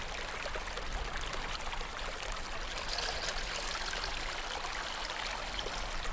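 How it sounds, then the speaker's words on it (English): Steady rush of water flowing from springs out of a rock, a continuous broadband gush that holds even and fairly close for the whole stretch with no voices. "There came 12 different springs of water from the rock."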